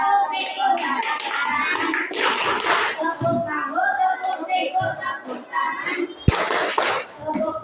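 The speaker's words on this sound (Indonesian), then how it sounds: "kita ada tepuk dulu apa? Tepuk siku dulu." A primary school class performs a tepuk siku clapping routine, children chanting together between sharp bursts of group clapping, with one loud slap-like hit near the end.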